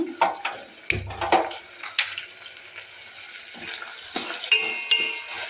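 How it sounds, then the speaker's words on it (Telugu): Onions fry in a pan for a chicken curry, with an ongoing crackling sizzle broken by close spoon-on-pan clinks and stirring scrapes. "ఆనియన్ బాగా ఫ్రై అవనిద్దామండి"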